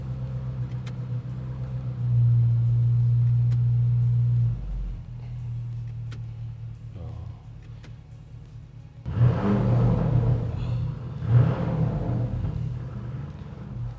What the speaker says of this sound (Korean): 근데 확실히 8기통이지만 터보다 보니까 배기가 좀 답답한 감이 있다.